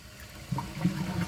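A 1990 Universal-Rundle Atlas toilet being flushed gives a brief, fairly quiet rush of water that swells over about a second in a small bathroom.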